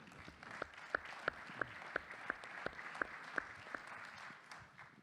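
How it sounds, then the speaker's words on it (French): Audience applause at an entrepreneurship convention in a hall: dense, steady clapping from a crowd with sharper individual claps standing out at a regular pace, continuing throughout with no speech. "Applaudissements pour lui."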